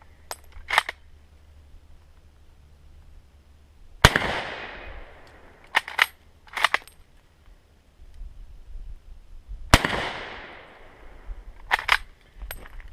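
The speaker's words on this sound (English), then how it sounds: "So I'm gonna keep shooting." A K98 Mauser rifle firing old Persian 8mm ammunition with hangfires gives two loud, sharp reports that ring out outdoors, separated by bursts of metallic bolt clicks and clatter from working the action.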